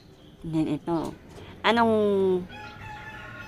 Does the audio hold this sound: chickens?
yes